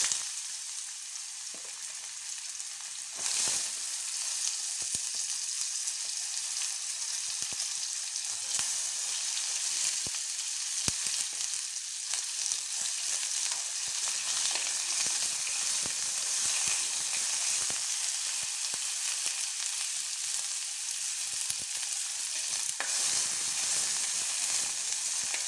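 Potatoes fry with bottle gourd peels in hot oil, giving a steady, bright sizzle and hiss that runs continuously, with occasional faint clicks of stirring.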